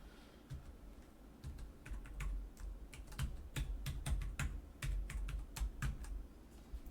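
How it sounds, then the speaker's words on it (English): Keys clatter on a computer keyboard as a password is entered, irregular bursts of sharp clicks with short pauses, close and quiet with no talking. "I'm just going to give him the password."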